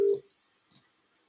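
A call ringing between two devices in a WebRTC calling demo: two short ring bursts about half a second apart, clear and close with no talking.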